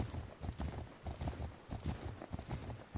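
Horse hooves clip-clopping in the video game The Legend of Khiimori, a steady rhythmic gallop of quick, muffled beats, fairly faint and continuous throughout.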